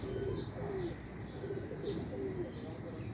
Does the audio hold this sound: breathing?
no